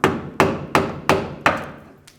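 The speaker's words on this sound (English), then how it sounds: "We could take a screwdriver from the back side, just try to hammer it out a little bit" A hammer drives a screwdriver from the back side to knock out a brake cable on a 1999-2007 Chevy Silverado 2500, giving five evenly spaced, sharp metallic strikes and then a softer sixth tap, each ringing briefly, close and alone.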